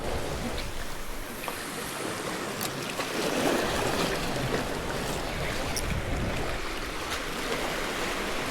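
Big sea waves wash and churn around a boat off Palawan, a steady loud broadband rush of water and wind lasting throughout with no voices.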